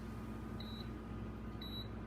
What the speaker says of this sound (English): this induction burner is going to beep for a second